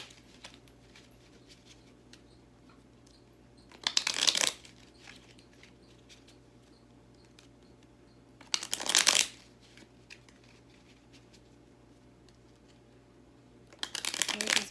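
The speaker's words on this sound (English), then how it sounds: "I like to shuffle, baby. I like to get it all the way mixed up" A deck of tarot cards is riffle-shuffled in three quick, crisp bursts spaced several seconds apart, close and distinct against a quiet room hum.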